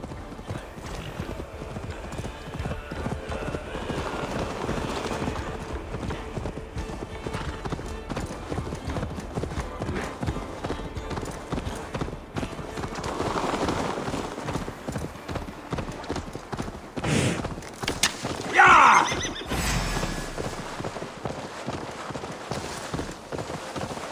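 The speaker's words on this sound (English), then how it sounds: "Your horse is slow" Rapid hoofbeats of a galloping horse pound on continuously in the video game Assassin's Creed Valhalla, with a brief whinny near the end, while voices talk in the background.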